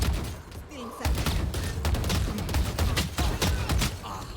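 Rapid gunfire bursts from a shooter video game crackle repeatedly and loudly for several seconds, with a brief quieter gap near the start and a voice faintly underneath.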